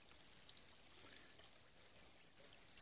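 Spring water trickling beside a trail shelter on a long-distance hike, a steady faint stream of running water alone with no voices, ending in a brief louder knock near the close.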